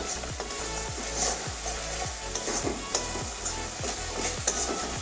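Spice paste (masala) fries and is stirred in a pan with steady sizzling and a regular scraping rhythm of the spoon, close and continuous, no talking.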